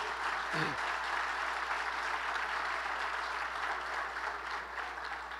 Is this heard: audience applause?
yes